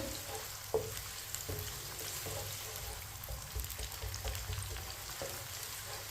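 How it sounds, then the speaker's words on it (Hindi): Finely chopped onion fries in hot ghee for a pilaf, a steady close sizzle with occasional soft clicks of a spoon against the pan, without speech. "प्याज को हल्का सा ब्राउन कर लेंगे।"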